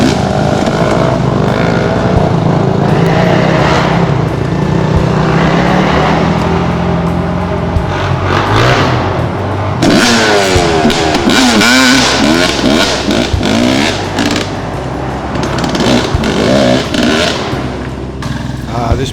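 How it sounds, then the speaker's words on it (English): Motorbikes ride through a gully in Wombat State Forest, their engines revving and roaring loudly and close by, rising and falling as they pass, with voices talking faintly underneath. "Can't wait for the bikes to hurry up and get through so we can have a"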